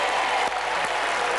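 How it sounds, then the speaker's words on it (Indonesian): Brief burst of studio audience applause on a game show, a dense, loud clapping that fills the whole moment with a short dip midway. "Tepuk tangan."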